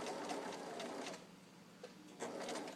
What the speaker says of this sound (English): And now we're doing a standard straight stitch.